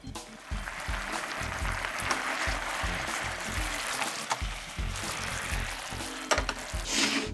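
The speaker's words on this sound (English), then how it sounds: "Now boil it for 30-40 seconds on medium heat." Ground beef sauce thickened with cornstarch boils on medium heat in a pan, giving a steady, dense sizzle and bubbling that runs unbroken throughout, fairly loud and with no talking.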